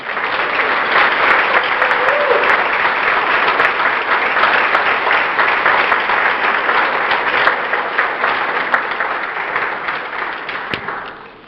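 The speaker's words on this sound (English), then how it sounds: "let's give them a nice round of applause, please." Sustained applause from a banquet audience at the California Pro-Life Council dinner, a dense steady roar of many hands clapping for about eleven seconds before tapering off at the end, with no talk over it.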